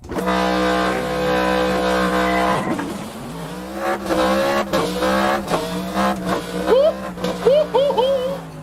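Race car engine in the video game Assetto Corsa on a power build with 100% turbo, a loud sustained drone that drops off, then rises in revving bursts and whooshes, with a voice talking over it.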